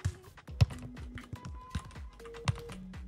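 Computer keyboard keys tapped in short irregular bursts while a player works the controls in the football game FC Online, close and fairly quiet, with faint game sounds and tones underneath.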